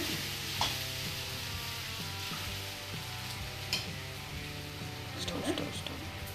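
Spice powders being stirred into rava kichadi in a pan, a steady soft sizzle with scraping stir sounds and a few light knocks throughout, under a talking voice.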